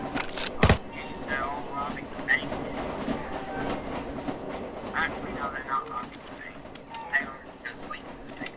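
Train rumble and rail clatter inside the Roblox Jailbreak video game, a steady mid-level rolling noise with a sharp bang near the start, under busy game sounds and music.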